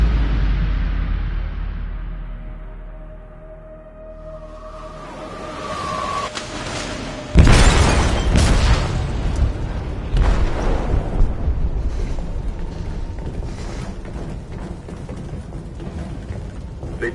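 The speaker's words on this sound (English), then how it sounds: "They detonated an explosive in the hold." A heavy explosion goes off in a ship's hold in Detroit: Become Human, a sudden loud boom at about seven seconds followed by long rumbling, creaking debris and roaring noise after a quieter, tense buildup.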